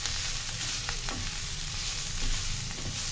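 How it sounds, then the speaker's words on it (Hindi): Mixed vegetables and steamed paneer stir-fried together in a pan, a dense steady sizzle with occasional soft scrapes of a spatula, heard up close with no talking. "बस अच्छे से मिक्स कर लेंगे इन सब्जियों में पनीर को भी"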